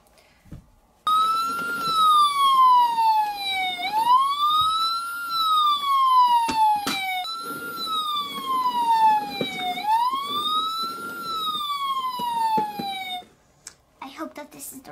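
A toy ambulance siren, part of Barbie and Ken doll play, wails loud and close in slow rising and falling sweeps, repeating for about twelve seconds before cutting off abruptly.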